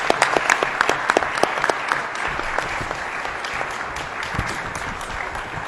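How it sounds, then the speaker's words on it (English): A crowd at a New York community reconstruction meeting applauds loudly. A few sharp, close claps stand out at the start, then the applause settles into a steady, dense wash. "Let's give all of these folks a round of applause."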